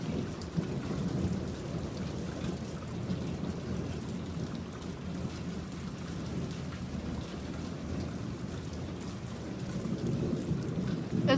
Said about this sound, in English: Hell of a thunder.